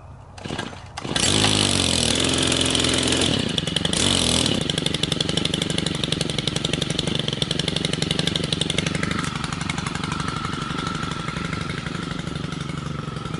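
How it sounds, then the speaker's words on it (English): An extendable pole chainsaw revs up loudly and runs continuously with a steady high whine, its pitch dropping slightly toward the end as it bogs into apple tree branches. "extension chainsaw,"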